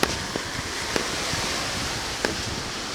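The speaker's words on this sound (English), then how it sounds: "Water's pretty rough." Rough sea surf washes onto a beach in a steady broadband roar, with a few sharp knocks and clicks over it.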